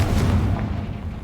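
A Confringo spell explosion in Hogwarts Legacy, a dense booming blast with a heavy low rumble that fills the whole moment steadily, with no trailing quiet.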